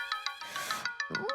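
A phone ringtone plays a quick run of bright electronic notes in a bouncy, rhythmic pattern, close and clear, ending in a short falling tone.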